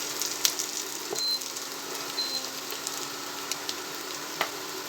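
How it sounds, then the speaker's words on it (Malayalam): Potatoes frying in a pan for a potato roast in a village kitchen give a steady, close sizzle with faint crackles and a few sharp pops, no talking. "പൊട്ടറ്റോ നല്ല ഫ്രൈ ആവുന്നുണ്ട് കേട്ടോ"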